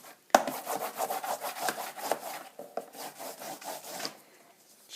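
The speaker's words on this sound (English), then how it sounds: "and then I fold it up, rub it with my marker" A marker is rubbed back and forth over folded drawing paper, giving a series of soft, close scratchy strokes that come in short bursts with small gaps between them.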